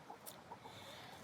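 Backyard chickens cluck softly in a brief, faint moment, with a low outdoor background hum.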